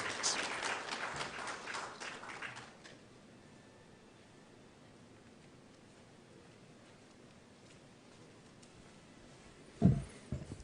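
A crowd applauds for a couple of seconds, then the clapping fades into quiet room noise, with a brief thump near the end.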